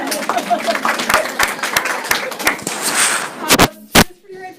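Scattered, uneven clapping from a small audience at a community club forum, sharp individual claps over a murmur, ending in a few loud final claps.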